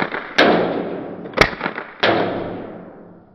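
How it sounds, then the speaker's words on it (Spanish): Three sharp, loud shots from a Jericho CO2 air pistol at irregular intervals, each with a quick attack and a short decaying tail, close by with no talking. "Voy a disparar, voy a hacer un tiro allá"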